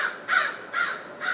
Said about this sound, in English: you hear the crow fly overhead